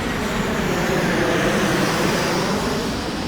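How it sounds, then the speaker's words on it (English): Airplanes flying overhead make a steady, loud, broadband roar that holds constant throughout, with no speech over it. "these bloody planes."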